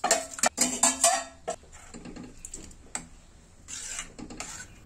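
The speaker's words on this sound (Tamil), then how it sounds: "இப்போ வேக வச்ச பருப்பை சேர்த்துக்கோங்க." Metal and utensil clatter against a pot as cooked lentils are added, several quick clanks followed by softer scraping and a few light knocks, close by with no talking.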